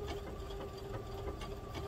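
A sewing machine runs at a slow, even stitch while sewing an appliqué onto a t-shirt, a quiet steady mechanical hum with a faint rapid needle patter and no talk.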